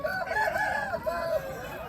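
A rooster at a fighting-cock market crows loudly and close, a single drawn-out call with clucking around it, stretching across the moment.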